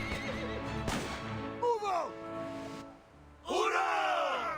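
Two loud horse whinnies in the video game Reverse: 1999, one midway and another near the end, over a steady low rumble of hooves and background noise.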